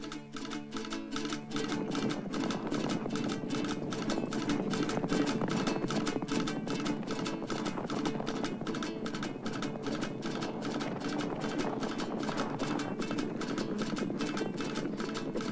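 A dark bay horse's hooves clip-clop in a quick, steady rhythm, clear and fairly close throughout, with no talking.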